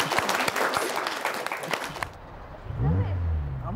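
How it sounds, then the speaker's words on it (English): Wedding guests burst into applause right after the couple's vows, loud dense clapping for about two seconds that stops abruptly, followed by a short lull and then a voice talking. "I think we could have a round of applause, folks."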